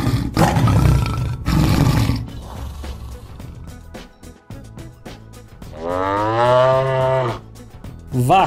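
A cow lowing, loud and close: rough, heavy bursts early on, then a long drawn-out tonal moo near the end, with no talk over it.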